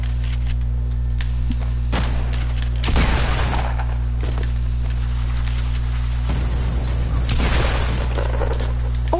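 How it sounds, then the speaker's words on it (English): Gunfire in an online shooter video game, including a possible revolver shot, heard as a few sharp bursts around three and seven seconds over a steady low game hum, with no talking. "Was that a revolver shot?"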